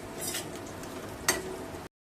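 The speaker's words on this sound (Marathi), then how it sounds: "त्याला हलकसं परतून घ्यायचं आहे आपल्याला तेलामध्ये दोन्ही साईडने आलटी पलटी करून" Fresh green pea snack frying lightly in oil, a soft steady sizzle with a single spatula tap as it is turned, close and fairly quiet.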